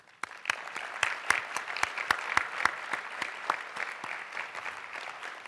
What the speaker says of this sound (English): We'll give one last round of applause for the presenters